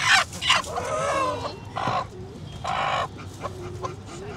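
Chickens cluck and squawk in short, close bursts with brief pauses, fairly soft, in a farmyard setting with ducks nearby and no talking.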